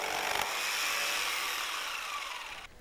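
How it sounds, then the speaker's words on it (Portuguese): Power saw cutting through the tongue edge of a laminate floating-floor plank, a steady loud buzzing rasp running almost three seconds before cutting off abruptly. "corte apenas a lingueta da primeira régua"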